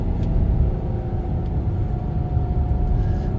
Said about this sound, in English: And then I like the downshift right here.